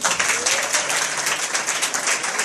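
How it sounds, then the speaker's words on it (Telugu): A crowd at a college sports and annual day event bursts into dense, loud applause, continuous clapping from many hands filling the space for a couple of seconds. "గట్టిగా క్లాప్స్."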